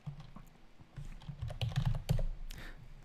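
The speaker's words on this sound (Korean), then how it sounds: "이렇게 타이핑 해주셔도 되고요." Computer keyboard typing while installing a Python module in PyCharm, a quick irregular run of soft key clicks and thumps that grows busier, close up and moderately quiet.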